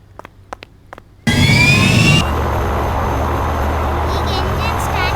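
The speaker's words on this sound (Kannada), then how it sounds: "ಈಗ ಎಂಜಿನ್ ಸ್ಟಾರ್ಟ್ ಆಗೈತೆ" An airplane engine in an airplane video game spins up abruptly after a few short sounds, a loud rising whine that settles into a steady, close roar filling the rest of the clip.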